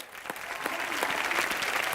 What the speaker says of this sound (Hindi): मैं चाहता हूँ खड़े हो गए तालियां बजा जाए सुहेल भाई के लिए